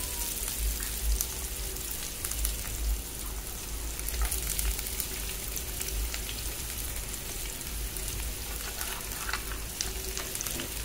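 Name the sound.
sautéing onion, capsicum and carrot with spices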